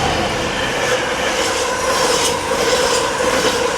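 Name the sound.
freight train passing over a bridge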